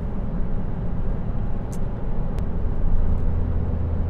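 Steady low road rumble and tire noise inside a small car driving over rough pavement, loud and continuous with no breaks, plus a couple of faint brief clicks.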